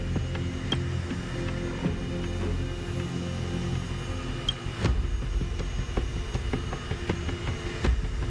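A steady low mechanical rumble with rattling and occasional sharp clanks as a mobile train cleaner rolls along in Honkai: Star Rail, continuous throughout with no talking.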